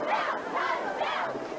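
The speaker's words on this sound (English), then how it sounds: "The crowd's loving it." A crowd at a high school football game between the Baldwin Bulldogs and the Santa Fe Trail Chargers roars and cheers in a sustained, swelling wave of many voices.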